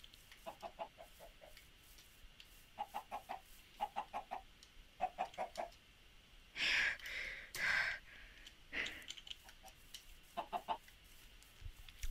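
Chickens clucking in a video game, with short bursts of rhythmic clucks repeating through the stretch, broken midway by a couple of louder breathy sighs or gasps, then more clucking near the end.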